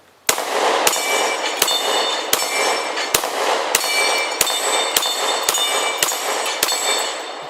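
Gunshots ring off the steel plates of an Action Target dueling tree, about a dozen sharp metallic clangs in a steady, fairly quick rhythm, each with a bright ringing tail and no talking.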